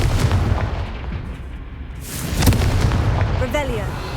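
Confringo blasting spell going off in Hogwarts Legacy, a booming burst around the middle of a busy game soundscape with magical whooshes, followed by a brighter spell chime near the end.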